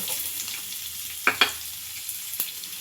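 Cumin seeds with chopped ginger and garlic sizzle in hot oil in a pan for Hyderabadi-style egg bhurji, a steady close crackle with a few sharp spatters and pops, no voices.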